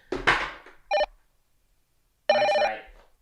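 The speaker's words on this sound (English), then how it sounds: "Your sound phone's like ringing up there" A phone rings in short electronic bursts: a brief chirp, then a longer tonal ring after a pause. A rustling thump is heard first, with no talking.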